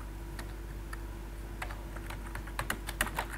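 Keystrokes on a computer keyboard as a message is typed, light clicks coming in uneven bursts that quicken near the end, heard close over a steady low hum with no voices.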